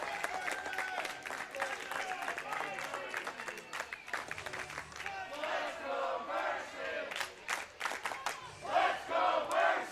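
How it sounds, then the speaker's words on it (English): A partisan crowd cheers and shouts at a girls' high school ice hockey playoff game in the Arctic Edge rink, with voiced yells and chanting swelling louder toward the end while a commentator talks. "A very pro-Mercy crowd here at the Arctic Edge."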